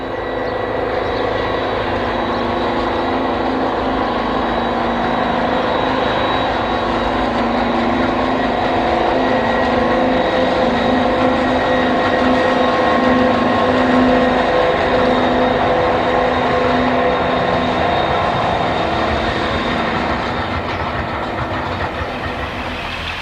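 A Deltic diesel locomotive, Deltic 9, pulls away from Gromont running on only one engine, giving a steady, loud, droning roar with a faint whine above it that holds evenly throughout.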